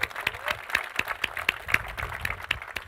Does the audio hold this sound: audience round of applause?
yes